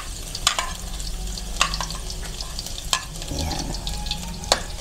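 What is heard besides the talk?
garlic frying in a pan for spicy pork adobo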